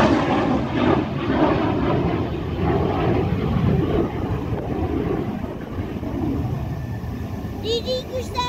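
A Mitsubishi F-2 fighter jet takes off at Hyakuri air base, a loud, broad roar heard from a distance with wind buffeting the microphone, while spectators chatter nearby toward the end.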